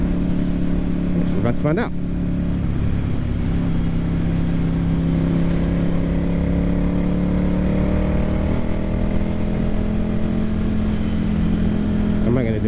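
Ducati Monster 797 motorcycle engine droning loud and steady while riding a curvy road, with pitch shifts as it revs up and eases off, heavy wind rush, and someone speaking briefly over it.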